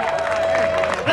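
A crowd applauds race champion Julie Scott at a Spartan Race awards ceremony outdoors, a brief burst of dense clapping mixed with a voice talking.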